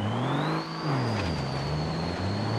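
Engine of an overloaded flatbed truck revving hard in second gear in the video game BeamNG.drive, a loud, steady drone whose pitch dips and climbs again while a high whine runs above it.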